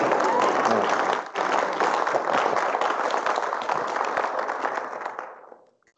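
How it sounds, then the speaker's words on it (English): Audience at an Imperial summit session on a resilient and renewable society breaks into loud, dense applause that holds steady for about five seconds, then fades out. "So that's the point where you give me a clap, I mean."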